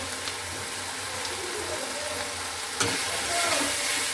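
Spices with Kashmiri and green chilies frying in a pan, a loud steady hiss of sizzling oil with a sharp stir or clink near the end and a slight swell afterward.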